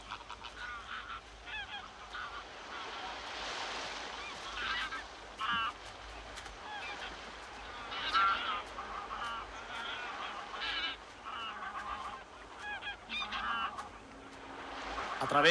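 A flock of geese honks repeatedly at a distance in Doñana National Park, Spain, overlapping calls rising and falling over a quiet outdoor background.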